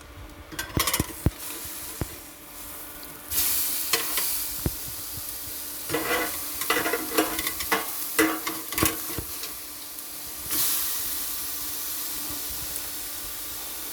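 Vegetables frying in a hot pan before broccoli goes in, a steady sizzle and hiss with bursts of stirring scrapes and clatters, close and loud with no voices.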